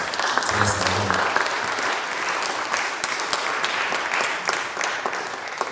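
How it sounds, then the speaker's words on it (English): A room full of people applauds in a steady, dense wash of clapping that holds for several seconds, with some brief voices at the start. "let's please give a warm round of applause to us at home."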